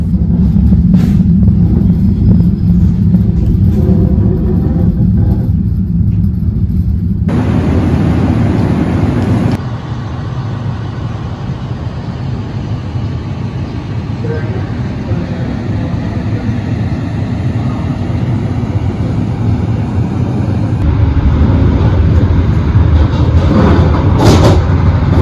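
The Malabar business-class train running between Bandung and Malang, a loud continuous rolling rumble with steady low-frequency drone and shifting track noise heard from inside the carriage, no talking.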